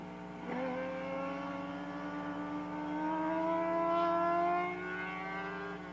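A vintage-class superbike such as a Yamaha FZR 400 races in a SOAR old boys' event, its engine whining steadily and climbing in pitch through the gears. The sound is close, loud and continuous, with no talking.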